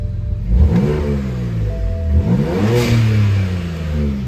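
A BMW 335i (E90) engine, warmed up, with stock exhaust except the muffler and a blow-off valve, revs up and down in rising and falling sweeps, with a deep exhaust rumble throughout, close and loud.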